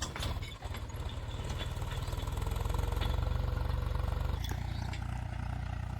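A tractor engine runs continuously while tilling a cumin field, a loud, close, steady rhythmic chugging with a few rattling knocks from the implement.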